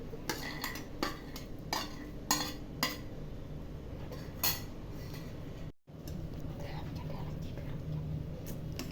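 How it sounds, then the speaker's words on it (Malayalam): A spoon stirs cooked pongal rice with cashews in a pot, giving a series of distinct clinks and scrapes, with quieter stirring in the latter half over a low kitchen background. "നമുക്കിത് എല്ലാം കൂടി ഒന്ന് നന്നായിട്ട് മിക്സ് ചെയ്യാം"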